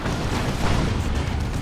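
A heavy artillery shell bursts in a Dawn of War 2: Retribution battle, a loud sustained rumble of explosion noise filling the whole moment without any clear pause.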